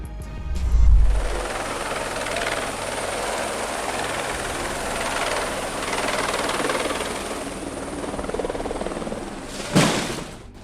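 A steady, loud rotor-like engine drone from an aircraft, holding level for the full length, with a brief thump near the start and a sharp burst near the end.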